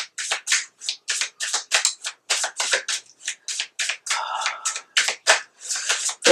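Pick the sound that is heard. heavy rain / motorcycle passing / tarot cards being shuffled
tarot cards being shuffled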